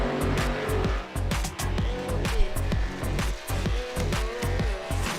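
Gen 4 stock cars race in the iRacing video game at North Wilkesboro Speedway in a NASCAR Cup Series event, their engines droning loudly with repeated pulsing surges as cars pass close by.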